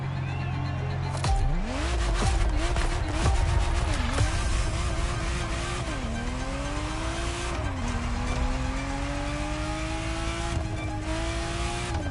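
A Ferrari Testarossa's engine revs hard in The Crew Motorfest, its pitch climbing steadily and dipping at several gear shifts, loud and continuous with brief tire squeal.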